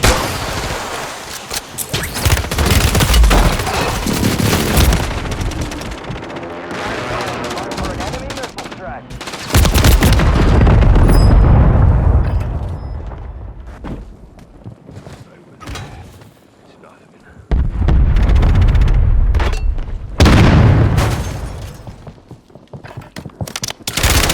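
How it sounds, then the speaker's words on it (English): Loud gunfire and heavy explosions from an airstrike fill a Warzone 3 battle, with rapid machine-gun bursts, booming blasts and intermittent voices over several dense stretches. "Hostile airstrike near your location."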